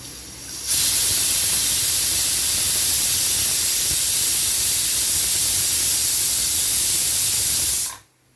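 Pressure cooker with its whistle on, cooking dal, releasing a loud, steady hiss of steam that starts abruptly and holds evenly for about seven seconds before cutting off, with no voices.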